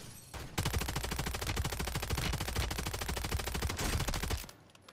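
Sustained automatic gunfire in the video game Warzone 3, a dense, evenly spaced stream of rapid shots lasting about four seconds at steady loudness before stopping abruptly.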